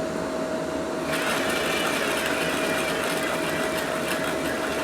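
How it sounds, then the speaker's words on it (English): Small electric motor of a VHS tape mold cleaning rig whirs steadily up close, a constant high mechanical drone with a faint tonal hum, and a slight rise in intensity after the first second. "There's a little bit of momentum factored into the motor that I can tell."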